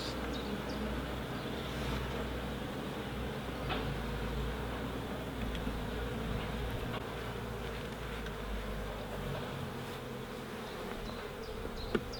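A swarm of roughly 20,000 honey bees being hived frame by frame, a dense, steady buzzing drone filling the whole stretch at even loudness with no talk over it.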